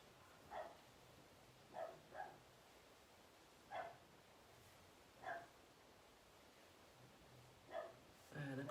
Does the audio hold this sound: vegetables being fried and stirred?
no